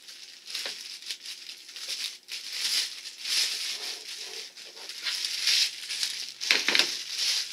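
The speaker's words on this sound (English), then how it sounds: "Let's get the plastic bag off it here." Close plastic crinkling and rustling in irregular bursts as a plastic bag is handled and pulled off a new Drill Master 2-inch cutoff saw, with a few sharper crackles near the end.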